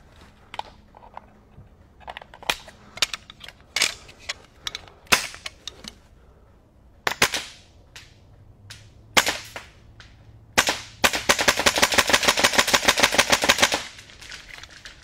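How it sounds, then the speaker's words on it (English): An AK rifle fitted with a Kythera V3 trigger fires outdoors, starting with loud single shots and short bursts, then ending in a fast, steady string of rapid rounds. "So let's put a few rounds downrange here just to show how it works."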